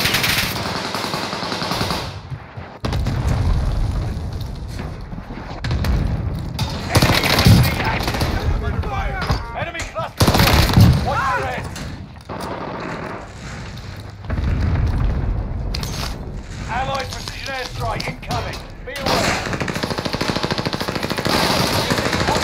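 Rapid automatic gunfire and explosions in Call of Duty Warzone on Rebirth Island, bursts of shots recurring throughout, with players talking over the combat.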